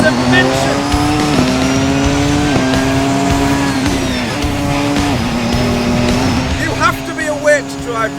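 A Porsche 919 Evo hybrid race car engine screams at high revs, with rising pitch through repeated gear shifts, loud and close throughout, a voice talking underneath.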